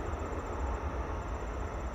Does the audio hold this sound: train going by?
yes